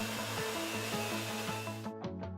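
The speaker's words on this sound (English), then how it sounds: "A vacuum machine is used to remove all the air from the investment." A vacuum machine draws air out of plaster-like casting investment for a jewelry pendant mold, giving a steady loud motor drone with a rumbling hum that cuts off abruptly near the end.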